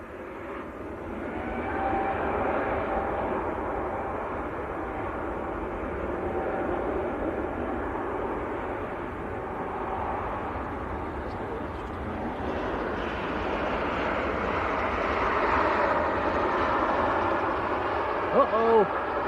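An Airbus A350 departs Manchester Airport bound for Geneva, a sustained moderate engine rumble that swells slightly toward the end, with people chatting over it.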